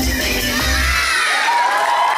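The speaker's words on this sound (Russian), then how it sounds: "Громче, громче, громче аплодисменты!" An audience at a children's performance, with young voices shouting and cheering loudly in a steady, dense crowd roar that follows a brief low voice at the start.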